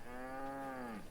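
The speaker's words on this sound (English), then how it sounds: "Cows." A single cow moos in the video game V Rising, one clear, sustained, slightly falling low call lasting about a second, heard alone.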